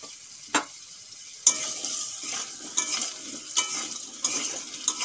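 Potatoes frying in a pan with turmeric and salt, a continuous close sizzle broken by sharp scrapes and taps of a spoon stirring at irregular intervals, with no voices.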